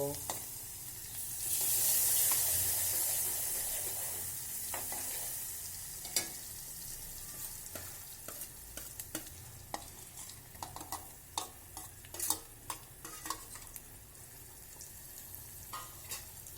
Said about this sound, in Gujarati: આપણે જે સૂકો કાંદો ટમેટું અને મરચું કટિંગ કરીને રાખેલું છે તે પણ વઘારની અંદર ઉમેરી દઈશું